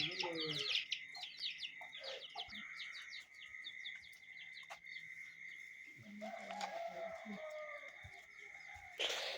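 A hen clucks outdoors at a house in the early morning, faint and somewhat distant, mixed with bright bird chirps and occasional low background noise.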